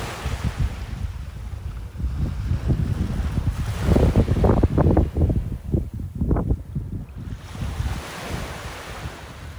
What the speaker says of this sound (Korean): 약간 이 물소리 너무 좋은 것 같아.